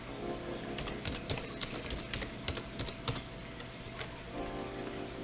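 Quick, irregular key taps on a computer keyboard click away as a password is entered, faint and close, over a low steady background hum.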